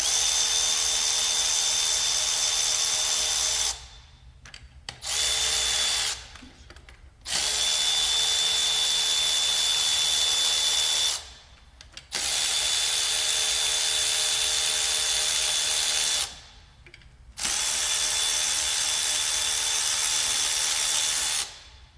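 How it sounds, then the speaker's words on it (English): Power tool, probably a drill or impact driver, running steadily on the bolts of ignition coils on an Ecotec engine with a blown valve cover, near and loud, in four or five long bursts separated by brief pauses. "I'm gonna unbolt the coils."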